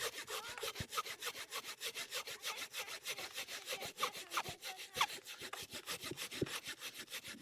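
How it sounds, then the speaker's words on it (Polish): A hand saw cuts through resinous pine kindling wood in quick, regular back-and-forth strokes, close and rasping throughout. "Ta piła jest bardzo dobra, to idzie piorunem."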